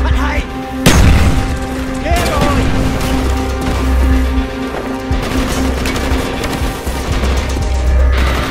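Grenade blast in the Call of Duty Black Ops Vietnam-era mission, a sharp loud boom followed by rolling gunfire, crashes and distant explosions, with brief voices under the battle noise.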